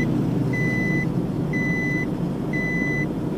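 Seat belt warning chime in a Nissan Frontier 4x4 turbo diesel pickup: three evenly spaced, sharp electronic beeps about a second apart, clear and prominent over a low steady cabin rumble.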